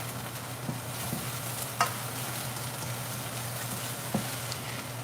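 Cauliflower fried rice stirred around a hot pan, a steady low sizzle with a couple of sharp scrapes of the utensil against the pan, close and fairly quiet, with no talk.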